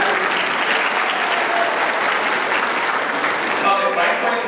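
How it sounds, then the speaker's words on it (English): Comic convention panel audience applauding a fan dressed as Anakin Skywalker, a steady roomful of clapping at an even level, with some voices mixed in. "Can we have applause for some Skywalker?"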